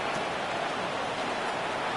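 Pouring rain falls during a Titans vs Steelers American football game, a steady, dense hiss with no gaps, fairly faint and even throughout.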